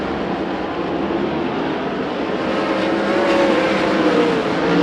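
Sprint cars race on the Perris Auto Speedway oval as the leaders come off turn 2 into a big group of lapped cars, a loud, steady engine roar that swells slightly toward the end, with no talk.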